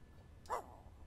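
A single short bark from a dog in The Sims 4, close and clear over a low background hum.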